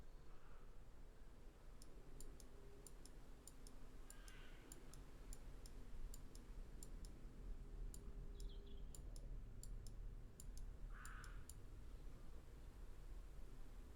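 Quiet, fairly evenly spaced mouse clicks from a player during a video game, soft and close over a steady background hiss.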